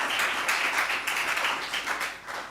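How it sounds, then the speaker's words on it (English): An audience at a stakeholder conference session applauds a guest speaker from the government of Zimbabwe, a brief burst of moderately loud clapping that tapers slightly toward the end. "Please could we give him a round of applause for joining us this morning."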